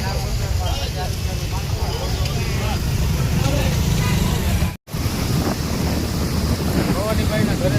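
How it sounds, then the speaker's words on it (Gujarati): Steady wind blows and buffets the microphone throughout during Makar Sankranti kite flying, with a loud, continuous rush that drops out briefly midway. "પવન છે, પતંગ સરસ જગે છે આકાશમાં."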